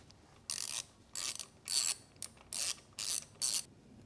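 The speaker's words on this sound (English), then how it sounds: "the 18 mil socket, deep socket, goes on" Ratchet on an 18 mm deep socket loosening a motorcycle spark plug, heard as six short bursts of close, crisp clicking ratchet pawl strokes separated by brief pauses.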